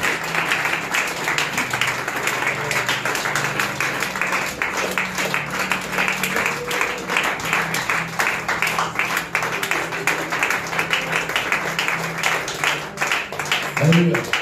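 A church congregation at a French apostolic service claps and cheers to acclaim Jesus, a steady, dense wash of applause and voices that fills the room throughout, swelling briefly near the end.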